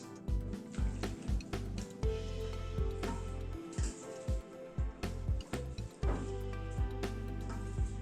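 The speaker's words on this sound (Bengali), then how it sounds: "এবার মেথি শাকটাকে ধুয়ে নিচ্ছি" Fenugreek leaves are swished and squeezed in water, giving soft sloshing and drips with rhythmic low bumps throughout, quiet and close.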